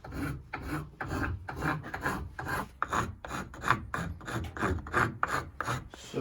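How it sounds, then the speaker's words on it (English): A wood rasp files a small wooden heart Christmas ornament in quick back-and-forth strokes, a close, dry scraping rhythm heard alone and fairly quiet. "I'll probably start with the rasp"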